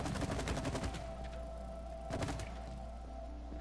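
Video-game gunfire in It Takes Two sounds as a quick burst of sharp shots at the start and another short volley around two seconds in, over a steady low game hum.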